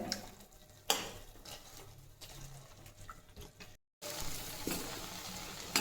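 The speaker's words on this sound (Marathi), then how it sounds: "जवळजवळ दहा एक मिनिट ह्या मी त्या छान तुपामध्ये परतवून घ्यायच्या" Fenugreek seeds roasting in ghee while a spoon stirs them, making a steady dry rustle and scrape with a few sharper knocks. A brief silent gap cuts in partway through, then the steady rustling resumes.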